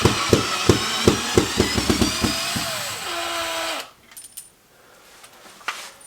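A power drill drives screws while a Comfort Zone heater is installed: close, loud rattling bursts in quick succession, then a sustained whir that winds down, followed by near silence.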